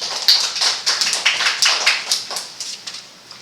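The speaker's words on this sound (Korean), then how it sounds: "고생한 팀원들에게 박수치면서 마무리하고 싶습니다" A small group claps to close a team's web development project presentation, a brief burst of hand claps in an indoor room with no talk over it.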